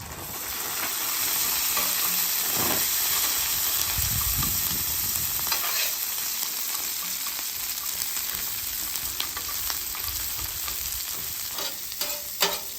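Frozen French fries shallow fry in oil on an angled Blackstone griddle, a dense, loud crackling sizzle with occasional scraping stirs, steady for over ten seconds without talk.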